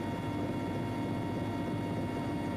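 Helicopter in flight on a trip to a district centre, a steady loud rotor and engine drone filling the cabin throughout with no break or variation.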